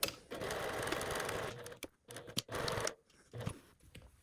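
Sewing machine stitching ribbon onto a scrap-fabric quilt block organizer, a fast mechanical whir in several runs broken by short pauses and stops, close and clear with no talk.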